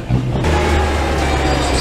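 A city bus driving through Ecuador's streets, its engine giving a loud, steady rumble close by with a constant broadband road roar and no voices.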